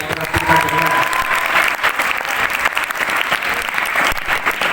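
Students at an Islamic boarding school in Jombang applauding together, loud continuous clapping with a brief voice at the start.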